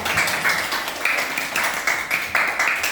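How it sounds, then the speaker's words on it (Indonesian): Classroom students clap together during a lesson, a dense, steady patter of many hands filling the room for about three seconds, fairly loud with no talking over it. "Ayo, tepuk tangan."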